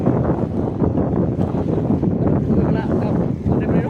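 Steady sea wind at the Bislig baywalk in Surigao del Sur buffets the microphone in a constant low rumble, with a faint murmur of voices beneath it.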